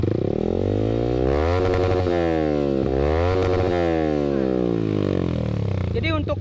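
A Yamaha R15 V3 fitted with an R9 H2 series exhaust revs hard outdoors, its engine sweeping up and down in repeated loud, rasping surges that dominate before a brief rattle at the end.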